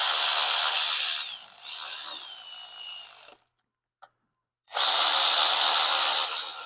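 A power drill whirs steadily while lapping valves into a Ford cylinder head, running loud in two bursts with a slight pitch dip, pausing into near silence with a faint click, then starting again.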